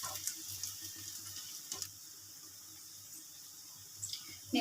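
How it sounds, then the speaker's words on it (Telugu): Urad dal vadas (minapa garelu) frying in oil in a small pan, a soft steady sizzle with occasional brief clicks and scrapes as they are turned. "ఈవెన్గా కాలేటట్టు అటు ఇటు తిప్పుకుంటూ ఫ్రై చేసుకోవాలండి."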